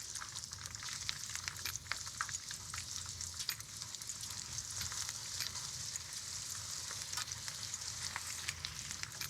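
A batch of potatoes frying in hot oil, a steady loud sizzle with crackling pops throughout and no talking.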